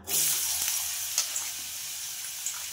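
Potato and onion hit hot oil in a wok and sizzle sharply at once, then settle into a steady frying hiss with a few faint stirring taps.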